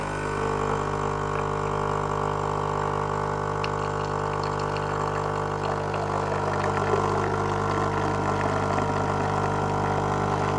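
A Nescafé Dolce Gusto Circolo capsule coffee machine brews with a steady, loud pump hum and mechanical drone that runs unbroken throughout, with faint watery gurgles on top and no talking.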